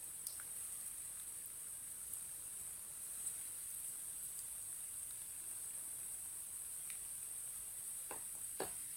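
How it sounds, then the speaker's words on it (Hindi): Aloo tikki frying in hot oil, a steady quiet sizzle and hiss running throughout with a few faint pops near the end. "इसे 2 मिनट के लिए फ्राई होने देते हैं"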